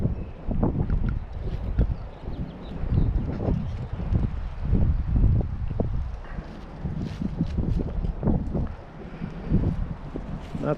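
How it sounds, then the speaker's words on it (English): Wind gusting outdoors on a cold day before snow, a steady broadband rush with rustling and buffeting against the microphone throughout, fairly loud and continuous with no talk. "It's a beautiful windy day."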